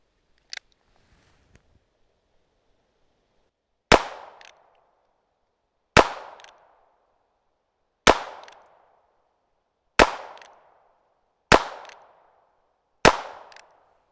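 Six sharp gunshots from a Ruger revolver, spaced about two seconds apart, each loud and close with a short echoing tail over otherwise quiet surroundings.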